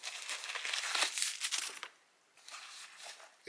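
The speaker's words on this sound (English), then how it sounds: "A lot of tissue paper." Tissue paper crinkles inside a New Balance 998 shoe box, with close, bright rustling bursts, a short pause, then more crinkling and a final rustle.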